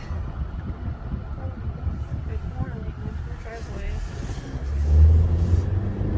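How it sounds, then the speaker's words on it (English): Road traffic near the Cape Cod bridge rumbles steadily from inside a moving car, swelling louder toward the end, with people talking over it. "Oh, there's a lot of traffic."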